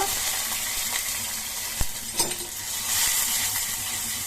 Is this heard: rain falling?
no